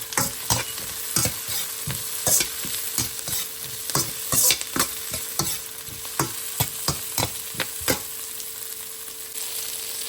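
A spoon stirs chicken feet frying with bay leaves and chili in a hot pan: steady loud sizzling broken by regular scraping strokes, close up and without voices.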